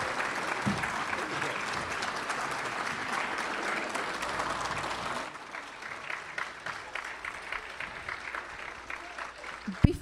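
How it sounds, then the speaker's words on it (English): Steady applause from a large crowd at a congressional district debate fills the clip, dense clapping that thins slightly halfway through and continues to the end. "And now for that round of applause."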